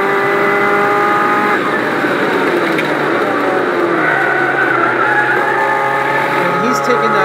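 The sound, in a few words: Abarth car driven hard on track, tires screaming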